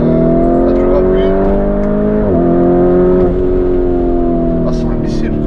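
A Lamborghini Urus SUV heard from inside the cabin as the driver presses the throttle again, a loud steady engine drone with a brief pitch dip, like a gear change, partway through.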